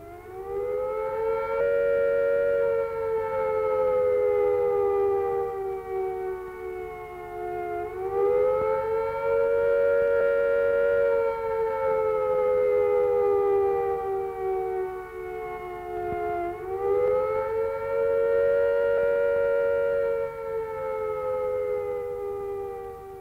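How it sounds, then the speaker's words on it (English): UK civil defence attack warning siren sounding its rising and falling note, a loud wailing tone that climbs and sinks in slow repeated cycles, sustained and alone. "If an attack is expected, the sirens will sound a rising and falling note like this."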